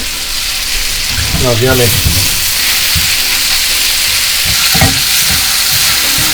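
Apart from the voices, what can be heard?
chicken fajitas frying in a pan on high heat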